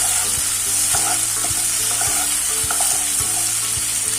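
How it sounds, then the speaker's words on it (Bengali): Sweet Bengali tomato chutney frying in a pan over medium heat, with a steady loud sizzle and a spoon scraping and stirring in a regular rhythm, close up and with no voices. "হালকা একটু নাড়িয়ে নেবো, ভেজে নেবো ভালো করে।"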